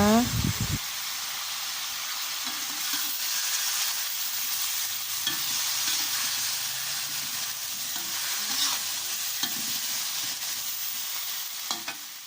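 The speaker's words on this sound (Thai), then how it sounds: "แล้วก็ใส่ผักขึ้นช่ายลงไปเลยค่ะ ผัดให้เข้ากันนะคะ" Celery is stir-fried with snakehead fish in a hot pan, a loud steady sizzle and hiss with scraping stirring strokes, and someone talks over the cooking.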